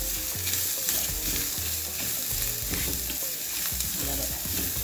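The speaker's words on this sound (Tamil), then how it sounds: "இந்த வெங்காயத்துக்கு தேவையான அளவு மட்டும் உப்பு நம்ம போட்டு நல்லா இப்படி பண்ணி நல்லா வதக்கிடணும்" Sliced onions with salt sautéing in a pan for masala idly, a steady close sizzle with repeated scraping stirs of a spoon against the pan throughout.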